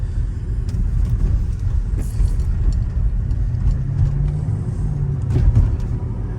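A silver 2007 Mercedes-Benz SL550 converted to Neomax coilovers drives along, its engine giving a steady low rumble with road noise and occasional small rattles inside the cabin.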